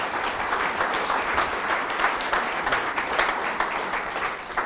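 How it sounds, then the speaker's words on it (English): A conference audience applauds after a technology talk, with dense, sustained clapping filling the room at a steady level from start to finish and no talking over it. "Round of applause to Richard, please."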